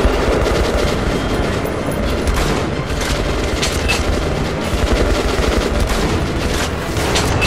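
Rapid machine gun fire in the video game Metro Last Light Redux, dense continuous bursts loud and close throughout, with booming impacts mixed in and no speech.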